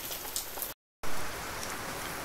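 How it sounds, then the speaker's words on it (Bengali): Heavy morning rain pours down in a steady, loud broadband hiss with no voices, cut by a brief dead-silent gap before the downpour resumes just as strongly. "এই দেখেন কি পরিমাণ বৃষ্টি নামছে, দেখছেন?"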